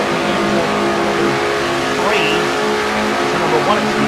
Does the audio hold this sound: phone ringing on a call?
no